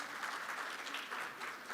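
Audience at a Brazil-Chile energy and strategic minerals forum clapping for a lithium company CEO, a steady, fairly faint burst of many hands applauding with no voices.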